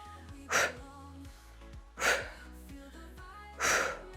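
Forceful breaths pushed out during a strength workout for the inner thighs, arms and abs, three sharp close exhales evenly spaced over steady background music.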